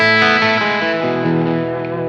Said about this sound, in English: You can just listen to straight up just what the Klon sounds like.